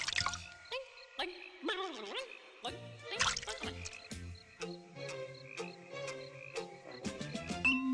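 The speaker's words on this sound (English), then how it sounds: "In case you couldn't understand what a froggy croaks" Cartoon frog croaks from a 1978 animated Thumbelina, a string of short pitched croaks set against tuneful musical backing, close and steady throughout.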